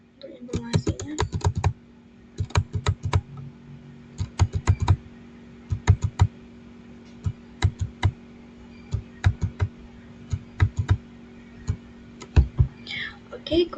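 Computer keyboard typing in quick bursts of close, crisp keystrokes with short pauses between, entering commands in a Packet Tracer network simulation; a faint voice rises briefly at the end.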